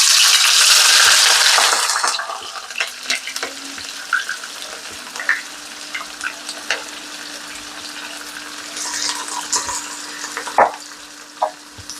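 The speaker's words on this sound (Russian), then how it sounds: "И жарить, ребята, будем лук до темно-коричневого цвета." Oil hisses loudly at first as onions hit the pan, then settles into a softer sizzle with scattered pops and crackles, frying over undiminished heat for beef pilaf.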